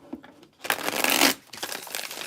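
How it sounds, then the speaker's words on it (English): A deck of oracle cards is shuffled briskly, a short riffling burst of papery flutter, close and clear, with a few soft card taps around it. "Can't get a good shuffle"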